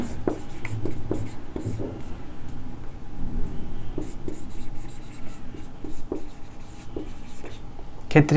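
Marker or chalk scratching across a board during a physics lesson, a series of short strokes and taps that come and go in uneven bursts, close and moderately loud with no voices.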